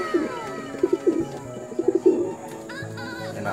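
A newly paired couple of breeding pigeons coo softly at close range, with a few short throaty coos in small clusters over quiet background, followed by faint chirpy whistles.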